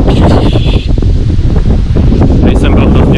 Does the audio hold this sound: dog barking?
no